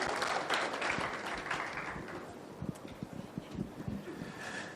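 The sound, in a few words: audience applause at conference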